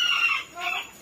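A small young rooster gives short, close clucking calls in two bursts with a brief pause between, loud and alone with no talk.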